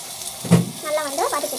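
Blended tomato poured into a hot pan of sautéing onion and garlic, giving a short splash and a soft sizzle and stir, close and moderate in level, while someone talks over it.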